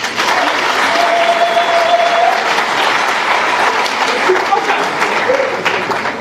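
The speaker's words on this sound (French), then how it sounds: "Vous pouvez vous applaudir." An audience in a packed hall applauds for several seconds, a loud, dense, sustained clapping with crowd noise mixed in.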